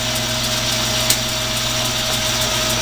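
A Logan 922 metal lathe runs steadily with a constant motor whine and hum, its belt giving faint regular clicks throughout, close and continuous with no talking.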